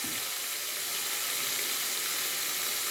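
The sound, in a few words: water being added to frying pork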